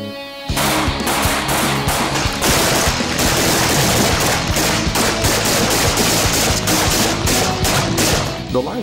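Sustained live-fire gunshots on a shooting range during actor weapons training, loud and near, a dense rapid fusillade of overlapping shots continuing without pause.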